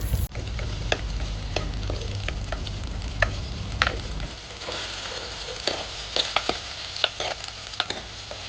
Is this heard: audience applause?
no